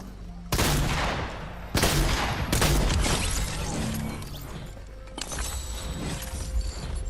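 Gunfire in the Fortnite battle royale game, several loud sharp bursts of shots with echoing tails, followed by a stretch of rapid lighter firing, close and dominant.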